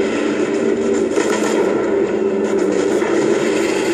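Steady gunfire and booming weapon noise fill a Destiny strike mission battle, a dense continuous roar of shots and blasts with no talk over it.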